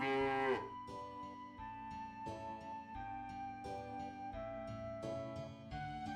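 A cow moos in the video game Lunar: Silver Star Story Complete, a single sustained bovine call at the start, followed by steady game music playing throughout.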